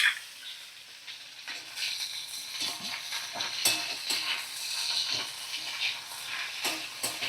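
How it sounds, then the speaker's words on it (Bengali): Broccoli and cauliflower frying in oil over a medium flame: a steady, close sizzling hiss runs throughout, broken by light scraping and clicking stirs, with no voices. "ওই একই তেলে মিডিয়াম ফ্লেমে আমি রান্নাটা করে নেব। তো দেখো আমি একটু হালকা লাল করে ভাজা করে নেব, কাঁচা গন্ধটা চলে যাওয়া পর্যন্ত আমি ব্রোকলি আর ফুলকপি ভেজে নেব।"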